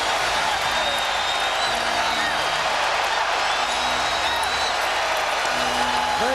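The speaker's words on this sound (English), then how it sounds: "Standing ovation for Kobe Bryant." A packed NBA arena crowd at a 2003 Houston Rockets versus Los Angeles Lakers game roars in a steady, loud, unbroken wash of cheering and applause as Kobe Bryant gets a standing ovation, with a commentator's voice faintly underneath.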